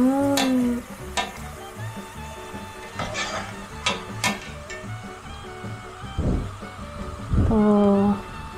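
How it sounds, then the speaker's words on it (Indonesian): Kerupuk crackers frying in hot oil, Indonesian style, with a background hiss broken by sharp crackling bursts and occasional loud clattering stirs, plus short tonal sounds near the end. "Kita goreng dulu"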